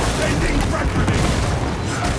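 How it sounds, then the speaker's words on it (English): Frag grenade blasts and battle rumble in Space Marine 2, a dense, loud wash of booming low-end detonations and gunfire filling the whole stretch with no letup, with voices mixed in. "Sending frag grenade."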